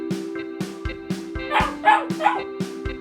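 A dog gives a run of short yips and barks in a quick, uneven rhythm, fairly close, with other faint voices or sounds in the background.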